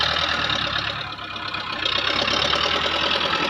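A Belarus tractor engine runs steadily while mixing mortar for a brick-making machine, giving a continuous mid-pitched drone that swells slightly midway, close by and with no talk.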